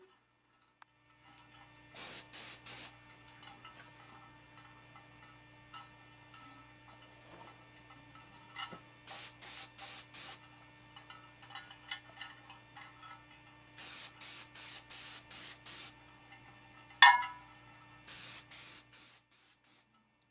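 DuraCoat being sprayed onto a hanging AR-15 magazine in short airbrush-like hissing bursts, several repeated in quick groups over a steady low compressor hum, with a sharp click partway through.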